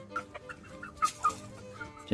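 A chicken clucks nearby in a few short, uneven bursts over a quiet outdoor background, with no voices.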